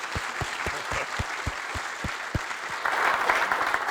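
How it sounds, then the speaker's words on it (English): Rhythmic clapping from a small group at a research institute open house, steady and fairly close, swelling into a denser burst of applause near the end. "give you a warm applause for coming here"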